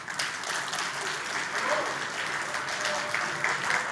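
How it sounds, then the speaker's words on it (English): A conference audience claps for a speaker after a talk on smart contract security, giving moderate, steady applause that holds at an even level throughout. "Big round of applause again"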